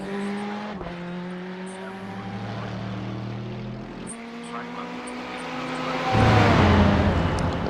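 A race car engine at Spa in the iRacing video game holds high, steady revs, dropping pitch at two gear shifts, then a louder rush near the end, with commentary talking over it.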